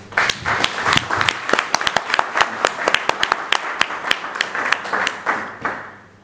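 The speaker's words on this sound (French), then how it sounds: "vous demander une salve d'applaudissements pour ce geste fort de votre part" Audience applause at a political conclave in Brussels: dense, steady clapping from a crowd, loud and close, holding for several seconds before tapering off.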